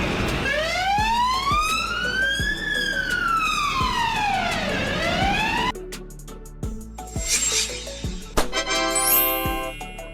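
A European ambulance siren wails in a long rising and falling sweep, then switches to a different siren pattern mid-way, loud and near over a steady vehicle drone with some street noise.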